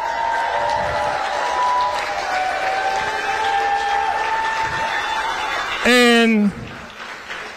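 A crowd claps and cheers at a political concession speech, steady applause under a speaking voice, with a brief loud swell of cheering near the end.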